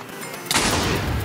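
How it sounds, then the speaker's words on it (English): A cannon fires in a Minecraft parkour game: a single sudden, loud blast breaks in after a quiet start, then rings out in a sustained, noisy decay. "Now you need to time the cannon."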